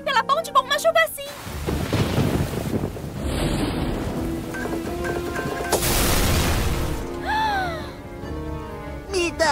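Heavy rain and wind roar for several seconds, with a rumbling swell in the middle; animated voices speak before and after the downpour.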